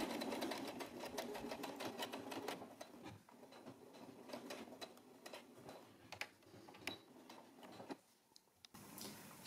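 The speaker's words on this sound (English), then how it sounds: "Put your needle down, lift your presser foot, pull out the fabric, put it underneath the foot, stitch, and then meet up with the start of your hem." A sewing machine stitching a double folded hem with a wide hem foot, a quick even run of needle ticks close by that slows and pauses near the end, quiet overall.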